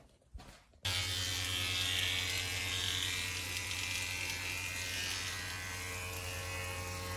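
A router cutting a bull nose profile on wood for Shaker wall panelling switches on after a few faint knocks and then runs at a steady, loud, high-pitched whine, heard alone.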